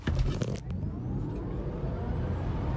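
Electric drivetrain of a Tesla Model 3 launching hard, a rising motor whine over road and tire rush that builds quickly and then holds steady.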